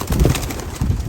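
Racing pigeons cooing softly inside their loft, a couple of low murmuring coo phrases close by with a steady faint background hiss.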